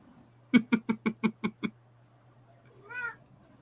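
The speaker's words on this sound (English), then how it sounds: "My cat is getting very upset." A house cat gives a quick run of seven short, evenly spaced meows, then pauses and lets out one longer, drawn-out upset meow, close and fairly loud with no talking.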